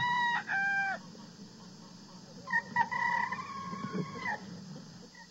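Barnyard chicken sounds on a 1978 Thanksgiving turkey shoot TV game: a rooster crows twice, then a longer drawn-out crow follows, with soft clucking and a low background rumble, fairly close and without talk.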